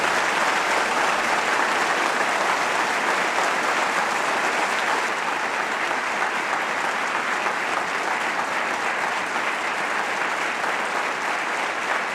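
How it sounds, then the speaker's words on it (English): A large audience at an annual meeting applauds in a steady, dense roar of clapping that holds evenly throughout, loud and sustained with no talk over it. "You sure are an encouraging group with all this applause"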